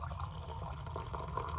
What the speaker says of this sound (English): So I'll pour coffee into the thermos.